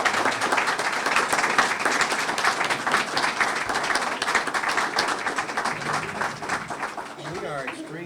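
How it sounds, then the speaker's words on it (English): A lecture audience at an author event gives a sustained round of applause, dense clapping filling the room steadily before thinning out toward the end. "How about a round of applause for our guests?"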